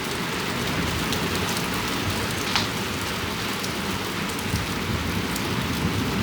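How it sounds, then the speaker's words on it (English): Steady rain pours down during a thunderstorm, heard from inside a van: a dense, even hiss of drops on surfaces, fairly loud and constant with no voices. "Here comes the rain."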